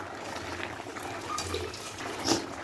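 Soybean and potato curry made with stone-ground spice paste boils in a covered pot, giving a faint, steady bubbling hiss with a slightly louder burble near the end.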